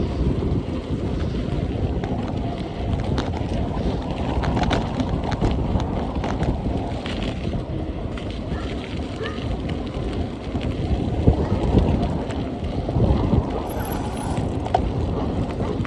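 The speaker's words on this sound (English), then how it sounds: "The wind is kind of helping us, I think, at the moment." Wind gusts buffet the microphone on a long bike ride, a continuous rough rumble with shifting swells throughout, loud and close, with no clear voices.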